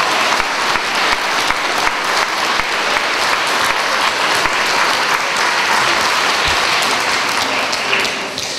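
Loud, sustained audience applause at an Independence Day ceremony, dense continuous clapping filling the room and tapering slightly at the very end.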